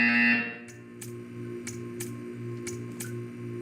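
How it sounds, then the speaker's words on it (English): A short, loud electronic buzzer tone from the video game Portal 2 sounds at the start, then gives way to a quiet, steady ticking at roughly one-second intervals over a low hum. "When you hear the buzzer, stare at the art."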